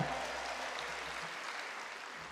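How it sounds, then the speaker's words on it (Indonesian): Faint, distant applause from an audience of teacher-training graduates at an alumni gathering at UIN Sunan Kalijaga, a steady hiss of many hands lasting a couple of seconds. "Tepuk tangan."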